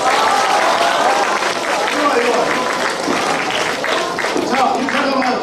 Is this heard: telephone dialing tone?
no